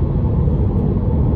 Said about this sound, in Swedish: Sätt upp en kamera i en fucking högljudd bil.